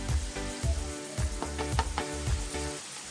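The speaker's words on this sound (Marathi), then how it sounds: "कांद्याला जास्त लाल नाही करायचं आहे नरम होईपर्यंत परतून घ्यायचा" Sliced onion being sautéed in a pan until soft for Kolhapuri whole masoor, a steady sizzle with rhythmic scraping strokes of a spatula about twice a second, close and moderately loud.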